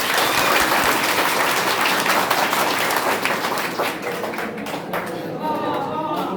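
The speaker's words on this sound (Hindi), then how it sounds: "अजीत सर के लिए ताली बजा दीजिए एक बार" Audience of students clapping for a teacher during a Hindi motivational talk, loud dense applause close by that thins out near the end as a few voices come through.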